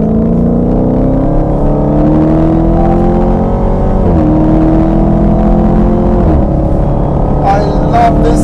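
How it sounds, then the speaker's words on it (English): A 2019 Dodge Challenger Hellcat Widebody with its supercharged engine accelerates hard, a loud close roar climbing in pitch through two gear shifts, then a brief high whine at the end. "There is no car like a Challenger Hellcat when it launches and goes,"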